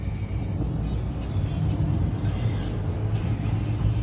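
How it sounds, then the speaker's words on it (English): Steady road traffic rumble heard from inside a car driving in California, a continuous low engine and tyre drone at moderate level with passing vehicles, no talking. "There's the traffic again."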